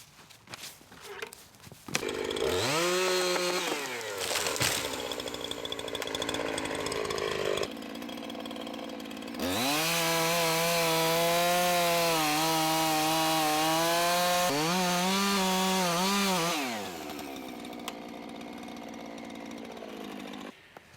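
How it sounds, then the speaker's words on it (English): A chainsaw revs up and bites into a large maple tree in two long cuts, loud and close, its pitch sagging under load between bursts of high whine. "I think I'm gonna switch to the bigger chainsaw for this one"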